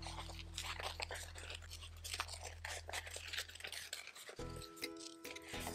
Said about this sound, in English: So I'm going to cut around my image.